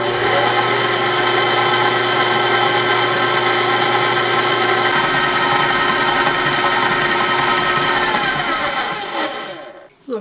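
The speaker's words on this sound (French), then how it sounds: "je vais brasser pour bien mélanger mes ingrédients secs" Dry keto bread ingredients, almond flour and salt, are mixed with a loud, steady mechanical whirring that runs close up for about nine seconds and then winds down and stops.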